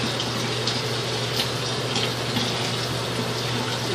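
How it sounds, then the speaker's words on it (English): Running water while hair is washed at home, a steady loud hiss of flowing water from close by, continuous throughout, with a low hum underneath and no talking. "so I wash my hair with water."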